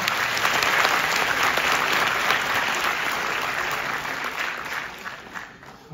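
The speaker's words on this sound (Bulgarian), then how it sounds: "аплодисменти още веднъж за нея" Warm, steady applause fills a hall at a bachelor's graduation ceremony, many hands clapping together for several seconds before gradually fading toward the end.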